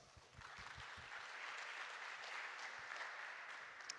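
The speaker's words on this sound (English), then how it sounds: "So why don't we give Daniel a welcome round of applause." Audience applause welcoming a presenter to the stage at an academic talk, a steady, dense wash of clapping from a mid-sized crowd, sustained and even throughout without voices.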